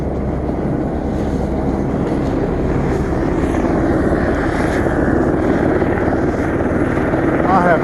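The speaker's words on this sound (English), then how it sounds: "I didn't even know it was a helicopter." A helicopter hovers and circles nearby on a morning of repeated flyovers, its blades giving an odd, steady droning whir that holds throughout, with someone speaking over it.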